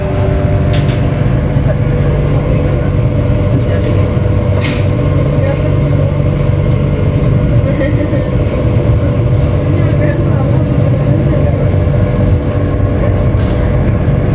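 The Ranggajati executive train pulls out of Solo Balapan station, heard from inside the carriage as a loud, continuous low rumble with faint rattles and clicks from the wheels.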